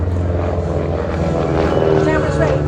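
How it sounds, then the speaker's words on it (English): A navy blue Beech 18 (JRB) twin-engine propeller trainer passes low overhead behind the tower at an air show, its loud, steady engine drone filling the whole stretch without a break. "Passing now, low overhead, just behind the tower, the navy blue JRB, the twin engine trainer"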